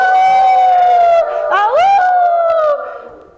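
A performer's voice imitates a howling wolf during a staged folk tale, one loud sustained howl sliding up and down with a brief break in the middle before trailing off.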